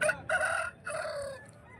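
A large rooster, about 1.5 years old, crows loudly and close by at a poultry market, one long drawn-out call broken into bursts, with a faint second call trailing off at the end.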